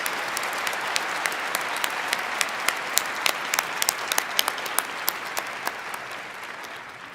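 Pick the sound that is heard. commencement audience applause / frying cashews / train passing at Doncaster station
commencement audience applause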